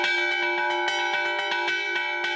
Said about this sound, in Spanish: El tajaraste o el repique de fiestas son algunos de los toques de campanas tradicionales en el archipiélago.